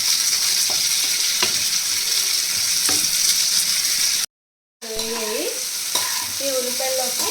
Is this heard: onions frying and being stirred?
yes